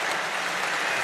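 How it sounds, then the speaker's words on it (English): An audience claps during a live talk: dense, steady applause at moderate loudness fills the whole short stretch without pause and with no voices over it. "It's nice to know what lines you can get applause for"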